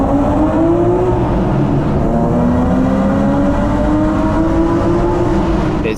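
A BMW E36 M3's engine and Super Sprint exhaust roar up close, the pitch climbing gradually as it accelerates, loud and unbroken throughout.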